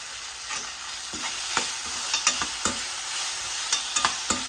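Chopped vegetables and onions frying in a pan for kothu parotta, a steady sizzle broken by repeated sharp scrapes and clinks of stirring, close and loud with no talk.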